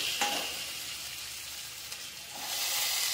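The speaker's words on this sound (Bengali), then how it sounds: "তো মশলা ভাজা ভাজা হয়ে গেছে, লাল লাল হয়ে গেছে, এরপর আমরা টমেটোটা অ্যাড করব।" Spices sizzle in oil in a pan for a Bengali-style cabbage curry, a steady close frying hiss with a few light scrapes and a swell of sizzling near the end, and no talking.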